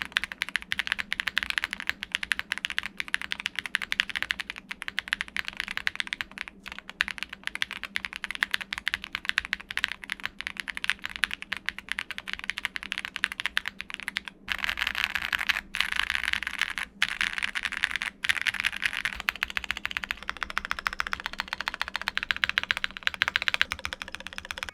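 Typing on a Luna80 mechanical keyboard fitted with case foam: a dense, steady stream of soft, muted key clacks close up, continuous throughout with brief pauses, no speech.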